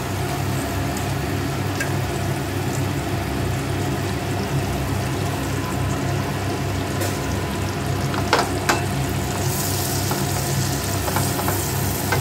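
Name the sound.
garlic frying in melted butter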